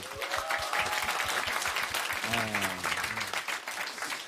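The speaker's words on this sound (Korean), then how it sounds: "근데 박수 한번 보내주세요." Live radio show audience applauding at a special public broadcast, steady dense clapping filling the whole stretch with a brief voice or tone rising partway through.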